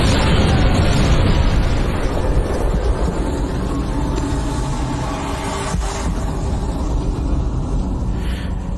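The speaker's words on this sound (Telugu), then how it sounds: "ఆయన అక్కడికి వచ్చిన తర్వాత రెండో బాంబు పేలుద్ది." A bomb explodes in a market as a film sound effect, a loud booming rumble that starts big and rolls on into a long, heavy roar that slowly eases without fading out.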